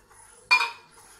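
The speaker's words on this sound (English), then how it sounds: "pour the coconut milk ice cubes into the blender" Frozen coconut milk ice cubes tumble into a blender, a single sharp clattering clink that rings briefly and fades, close and loud against a quiet kitchen.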